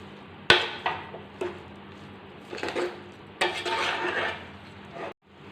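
Grated coconut is stirred and fried in a metal pan, with repeated clanks and scrapes of a spoon against the pan and short bursts of scraping and rustling, close and fairly loud.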